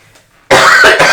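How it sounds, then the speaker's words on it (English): A single loud, close cough bursts out of near silence, harsh and broadband, with a couple of rough follow-up pulses right after. "Cough into the mic."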